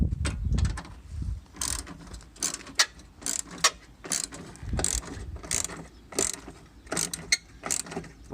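A ratchet on a 3/8 inch extension turns a 10mm bolt on the headlight housing of a 2010 Honda Civic LX, giving close, crisp bursts of rapid clicking separated by short pauses.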